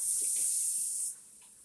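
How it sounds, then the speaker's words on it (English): Steady, loud hiss of a cup of water boiling off in a hot pan to steam chopped bok choy, red onion and red pepper for a sweet and sour pork stir-fry. The hiss drops away abruptly near the end. "I want to steam the vegetables"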